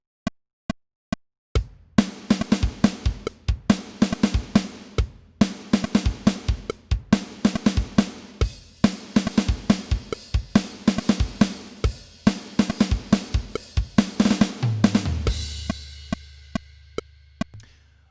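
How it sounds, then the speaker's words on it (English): Quantized MIDI drum track with every hit at the same fixed velocity, built around a rapid, evenly spaced snare roll that hammers like a machine gun, loud and mechanical with no dynamic variation, ending in a low sustained tone. "without doing anything to the velocities, you're still practically getting that machine gun effect in this little snare roll"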